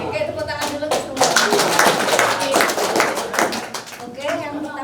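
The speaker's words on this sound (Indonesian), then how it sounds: "tepuk tangan dulu ke semua" Group applause from farmers at a tobacco field school session in Malang, with steady clapping from many hands lasting several seconds. Voices talk underneath throughout.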